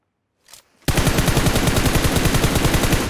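Gunfire in the PUBG Mobile video game: a faint short sound, then a sustained burst of rapid automatic fire that rattles on loud and close without a break.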